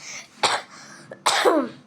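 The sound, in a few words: cough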